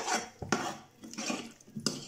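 A spoon scraping and stirring curd through a broccoli and potato curry in a pot, close and fairly quiet, with repeated rasping strokes and a few sharp clinks against the metal.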